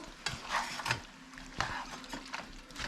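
A moose meat stir fry is stirred in a pan, giving quiet scraping and clicking strokes with a faint sizzle underneath.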